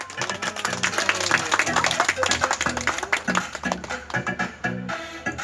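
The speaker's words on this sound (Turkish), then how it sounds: "Hadi alkış bana." A group of children clap together in a classroom activity, loud and sustained for several seconds with uneven rhythm, while voices rise in and out among the applause.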